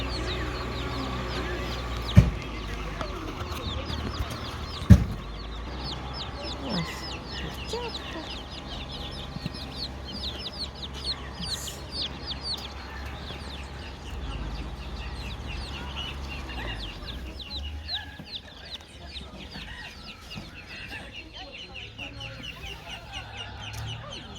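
At a market, chicks peep constantly in a high, busy chorus while hens cluck lower underneath, with a couple of sharp knocks early on.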